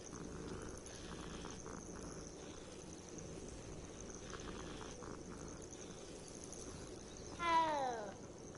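A cat in the video game Hogwarts Legacy lets out a single clear, rising meow near the end, over steady ambient game noise and a faint high hum.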